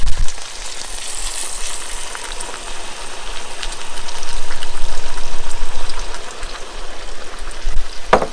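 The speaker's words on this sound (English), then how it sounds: "the meat is nicely browned now, so I'm going to add the orange sauce to this" Browned beef in a non-stick pan sizzling steadily and loudly after orange sauce is poured in, a continuous frying hiss that swells and then settles, with a brief knock near the end and no voices.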